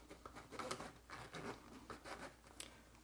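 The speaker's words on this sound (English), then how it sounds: "the zipper is pretty smooth" A YKK zipper on the pocket of a Filofax or Traveler's notebook is pulled in several short, smooth, close rasping strokes.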